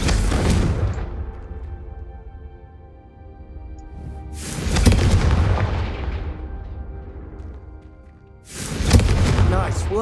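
Confringo fire spells cast in Hogwarts Legacy, three loud booming blasts spaced a few seconds apart, each with a sharp onset and a long rumbling decay, with faint speech between them.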